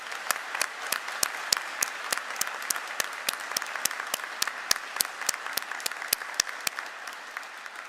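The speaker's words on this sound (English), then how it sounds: "we should start with a big round of applause that we're here today" An audience applauds steadily at a university graduation ceremony, many hands clapping together in a brisk, even patter that carries on throughout without voices.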